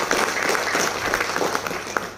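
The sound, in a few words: audience applause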